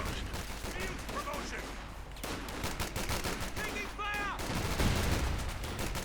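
Gunfire crackles through a Company of Heroes battle, with bursts of machine-gun and rifle fire, including Browning automatics, rattling steadily alongside distant explosions and shrill whistling shots, with voices faintly underneath.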